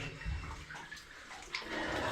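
Water sloshing and trickling in a flooded level of an old lead mine in Nenthead, Cumbria, a soft continuous splashing wash with a few slightly sharper splashes, low and close.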